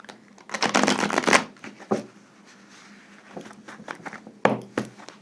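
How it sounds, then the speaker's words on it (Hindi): Zen tarot cards being shuffled up close: a dense riffling burst at first, then a few short, crisp shuffles after a pause. "तो ज़ेन कार्ड्स, एक बार इनकी रिशफलिंग कर लूं।"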